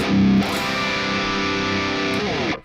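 An electric guitar played through the MLSoundLab Amped Ark amp sim with a Mixed Gent cab IR rings out a heavily distorted chord that sustains for about two seconds before a second strum, then fades out.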